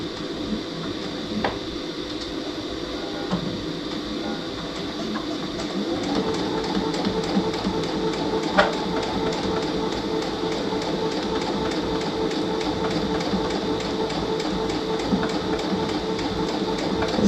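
Sewing machine stitching a quilted Easter egg coaster on a drawn line, a steady mechanical whir running throughout at moderate level, rising slightly after several seconds, with faint clicks and no talking.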